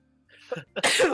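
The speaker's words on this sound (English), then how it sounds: "I'm sorry, I'm going to sneeze." A single close sneeze: a short inhaled build-up followed by a sharp, explosive burst that trails off.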